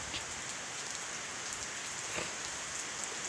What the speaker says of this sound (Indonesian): Hei, hujan.